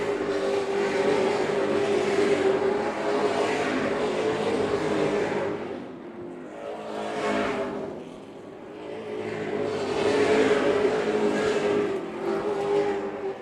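Super late model stock cars roar past on an oval track during a 150-lap race, engine noise swelling and fading as several cars pass one after another, loud and near, with no talk.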